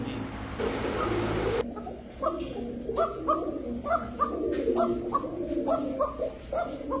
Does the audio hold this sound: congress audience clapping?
no